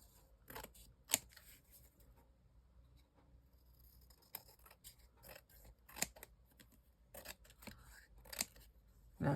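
Scissors trimming paper for a flip-style craft project, a series of faint, crisp snips spaced irregularly, close up in a quiet room.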